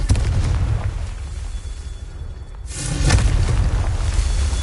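A fiery blast from the Confringo spell in Hogwarts Legacy erupts after a low rumbling lull, a sudden loud burst with a crackling, roaring tail that stays dense and close.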